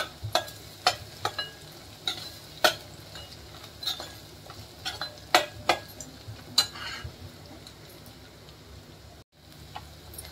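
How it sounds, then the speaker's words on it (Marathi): Masala roasting in hot oil in a pan for rasam, with a soft continuous sizzle and a dozen sharp scraping clicks from a spoon stirring at irregular intervals, close and fairly quiet. "मसाला चांगला तेलमध्ये भाजून घेतला आहे बघा"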